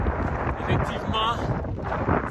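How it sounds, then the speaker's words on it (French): Strong headwind buffeting the microphone during a mountain trail race in extreme weather, a constant low rumble with faint indistinct voice fragments underneath. "avec le vent de face, j'avais pas prévu ça"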